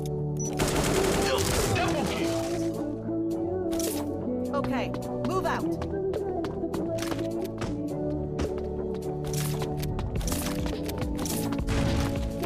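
Rapid, loud shotgun blasts and impacts ring out in the shooter game Bullet Angel, dense bursts through most of the stretch over a droning game soundtrack, with someone talking throughout.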